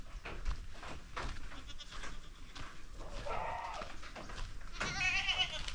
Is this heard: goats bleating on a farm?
yes